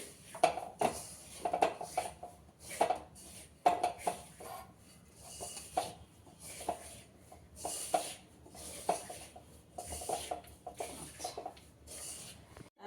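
Flour batter for kheer patishapta being stirred in a bowl, a run of irregular scraping and clinking strokes, close and fairly quiet, repeating in uneven bursts.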